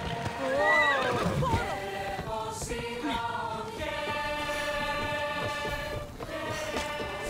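A horse in Assassin's Creed Odyssey neighs loudly at the start, then a second whinny rings out over clip-clopping hooves and light game ambience, with a repeated tonal whinny-like call toward the end.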